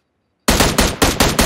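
In the PUBG video game, an automatic gun opens up after a moment of silence with a rapid burst of about five loud, close shots in an even rhythm, with no talk.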